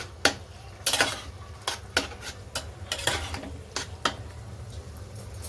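Spoon stirring two spoonfuls of ground peanut powder into a bottle gourd curry in a pan, giving a series of separate scraping and clinking strokes at an uneven rhythm, close and moderately loud, with no talk.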